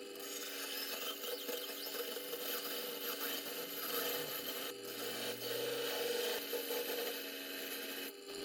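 Steady abrasive rasping as a gyuto kitchen knife blade is ground and reshaped along its edge line and crane-neck tip, a continuous close scraping that runs unbroken, with a short lull partway through.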